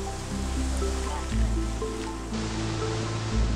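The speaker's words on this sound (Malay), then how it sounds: "Di sini juga terletaknya Gullfoss, sebuah air terjun yang sentiasa dikunjungi pelancong." Gullfoss waterfall in Iceland gives a steady, broad rushing roar of falling water, continuous throughout with low tonal sounds underneath.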